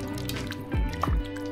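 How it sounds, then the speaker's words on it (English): Coconut milk poured into a pot, a few soft liquid drips and plops heard up close and quiet, with no talking. "So I love to add more coconut milk."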